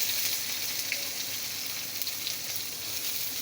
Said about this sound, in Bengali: আদাটা একটু ভেজে নিয়ে দিয়ে দিলাম পেঁয়াজটা